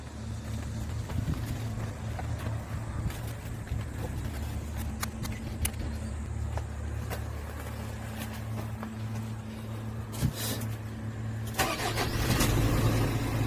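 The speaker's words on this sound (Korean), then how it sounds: "시동 걸어보고 엔진 소리까지 한번 들어보신다" A 3.5-ton wing-body truck engine idles steadily with a low, even rumble close by, growing slightly louder toward the end.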